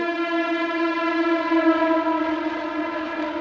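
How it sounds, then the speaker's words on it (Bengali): A passing train sounds a long, steady multi-tone horn that holds loud and even for several seconds with no voices over it. "ট্রেন যাচ্ছে ট্রেন"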